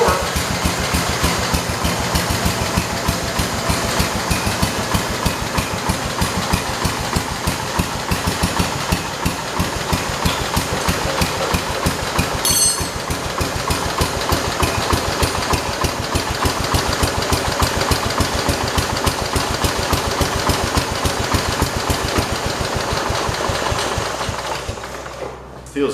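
A 1968 Kohler-powered garden tractor being driven after repairs, its engine running with a loud, steady rapid chug and clatter close to the listener for the full length, then fading right at the end.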